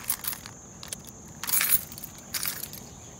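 Car keys for a Toyota Sequoia jangle in a hand, several bright metallic clinking bursts close by with short pauses between them and no talking.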